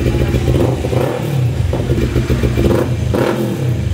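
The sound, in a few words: motorcycle revving through new replacement muffler exhaust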